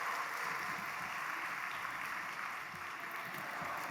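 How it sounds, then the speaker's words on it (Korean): Steady applause fills the room for a prize winner at a family dawn prayer service, a dense, continuous patter of many hands held at an even level from start to finish. "네, 박수로 축하하겠습니다."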